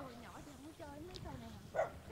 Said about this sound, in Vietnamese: con Bu nó ra giao chiến với con chó nhà người ta rồi